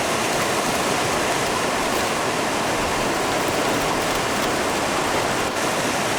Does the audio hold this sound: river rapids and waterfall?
yes